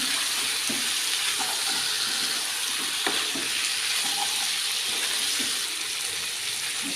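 Chicken pieces being stirred into masala in a hot pan, with a steady broadband sizzle and scattered clinks and scrapes of the spoon, continuous and fairly loud with no talking.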